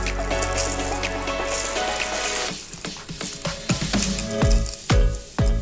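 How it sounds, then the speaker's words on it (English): Fizzy sparkling lemonade mocktail with fruit and mint being stirred in a glass, a steady close crackle of bubbles giving way to several sharp clinks of a spoon against the glass. "Stir it around a little bit."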